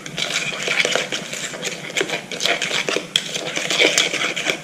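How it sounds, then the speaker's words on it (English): A utensil stirs cornstarch into an egg mixture in a bowl while making crepes, with quick, continuous scraping and clinking against the bowl that sounds close and busy. "Stir the starch of the corn inside the egg mixture."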